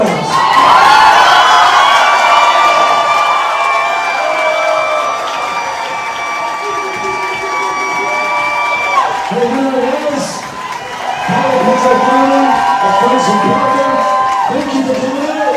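A crowd at a town hall in Mineral Wells cheers, whoops and shouts loudly and without a break, with a few clear, ringing voices calling out over the roar.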